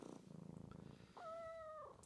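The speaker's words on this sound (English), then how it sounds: "He's purring." A pet cat purring steadily, close and soft, with a low rumbling texture, followed by a brief high tonal squeak or chirp near the end.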